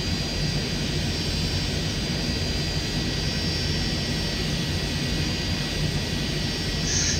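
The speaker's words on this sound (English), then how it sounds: "That's a big jumbo jet aircraft." Jumbo jet engines in a flight simulator game produce a steady, loud, continuous roar and whine, unchanging throughout with no voices.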